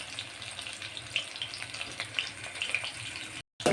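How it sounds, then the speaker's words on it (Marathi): Chicken pakoda frying in hot oil, an even bubbling sizzle with light crackles and occasional stirring, cut by a brief silence near the end. "याला तळायला खूप उशीर लागत नाही, 5 मिनिटामध्ये लगेच हे फ्राय होऊन जातात."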